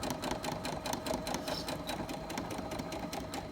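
A sewing machine back-stitches along a pillow seam, its rapid, even mechanical chatter running steadily and close throughout without a break.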